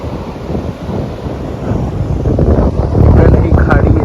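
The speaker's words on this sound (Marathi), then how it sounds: "इतकी सुंदर हवा सुटलेली आहे" A breeze blows near a coastal creek at Dapoli, buffeting the microphone with a rumbling, gusty rush that grows stronger toward the end, while someone talks.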